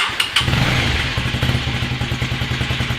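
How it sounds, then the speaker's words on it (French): A motorcycle engine fires up on choke after being reassembled, settling into a steady, close, thumping idle with a rhythmic mechanical clatter, loud and alone. "Coup de starter, bien sûr, pour la démarrer."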